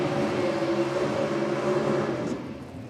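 Loud, sustained engine roar from cars doing burnouts at a drag racing championship event, a dense droning rumble that holds steady then eases off slightly near the end.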